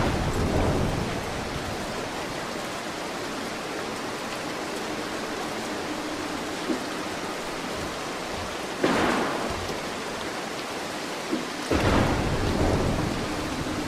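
Steady heavy rain hisses over a stormy night in Mark of the Ninja, with rolling thunder and a couple of sharper, louder cracks breaking through the constant downpour.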